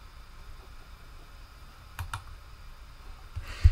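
Two quick computer mouse clicks land close together midway through confirming a partition change in software, followed by another soft click near the end, all faint against a quiet background hum.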